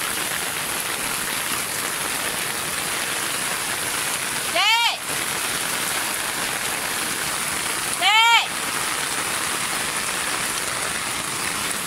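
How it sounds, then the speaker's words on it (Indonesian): Steady, dense heavy rain pours down close by throughout in Johor Bahru, with a person's brief voice breaking in twice over the downpour. "Hujan lebat."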